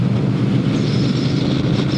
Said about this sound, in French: ce twin qui vrombit, qui martèle un petit peu l'air de ces sourdes pulsations.